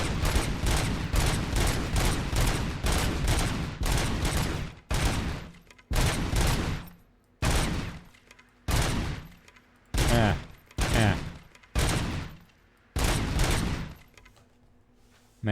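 Gunfire from a weapon in the video game RoboCop: Rogue City: a long, continuous loud burst of rapid shots, then a series of short separated bursts with brief pauses between them.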